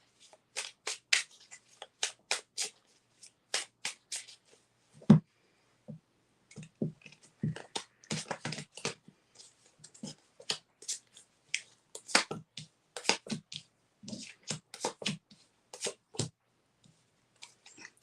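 Tarot cards are handled, shuffled and pulled in a run of sharp, irregular papery snaps and clicks, close and distinct, separated by short silences and spread across the whole stretch.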